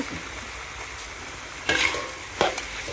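Wide rice noodles stir-fried with a splash of dark soy sauce for pork pad see ew, giving a steady close sizzle broken by two sharp, louder scraping stirs near the end, with no talking.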